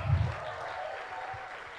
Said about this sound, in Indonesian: Ayo tepuk tangan buat ibu-ibu Singkawang.